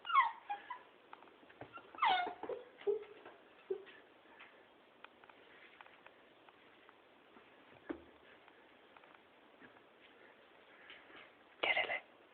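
Beagle whimpers softly in a quiet room, with faint whines and snuffles scattered between brief bursts of a person's gentle encouraging talk.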